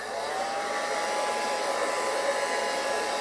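A blow dryer dries a beard with a steady, loud, continuous whoosh, close to the microphone and heard alone with no talking.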